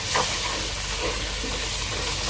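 Ground spices frying in a karahi over a low-medium flame give off a steady, close sizzle and soft hiss that holds evenly throughout, with no voices.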